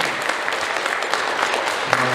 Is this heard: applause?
yes